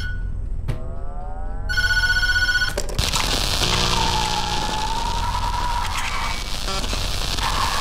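A telephone rings in the horror game Tattletail. It comes through as a few bright, repeated electronic bell bursts over a steady background hum and rain-like patter, with no talking.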